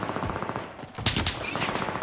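Bursts of automatic gunfire crackle in Call of Duty Rebirth multiplayer, a rapid volley sounding mid-clip among scattered shots, fairly close and sharp.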